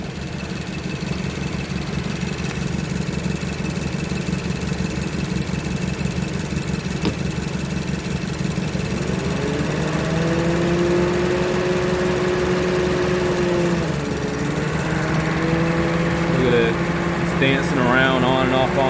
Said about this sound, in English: You hear the fans just kind of coming on and off.